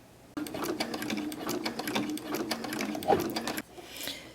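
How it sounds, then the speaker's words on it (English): Sewing machine fitted with a walking foot stitching a row of quilting guided by a bar, a steady close mechanical whir of rapid needle strokes running about three seconds before stopping. "now I'm going to be able to do the third row using this bar"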